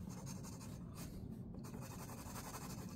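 A pencil or pen scratches and rubs steadily across paper while shading in a scorpion sketch, a continuous close, soft scraping texture with brief pauses and no talk.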